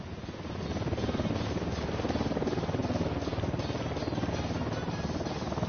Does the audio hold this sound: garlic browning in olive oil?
no